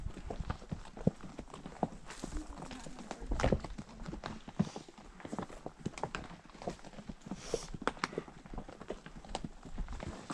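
Horse hooves clip-clop at a walk during a family horse ride, a faint, uneven patter of steps with quiet voices talking at a distance.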